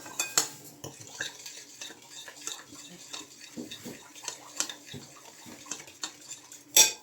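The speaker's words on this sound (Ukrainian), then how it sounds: "Розмішуємо гарно це все." Marinade for hake stirred in a bowl, with repeated clinks and scrapes of a utensil against the sides in an irregular rhythm, close up, ending in a sharper knock.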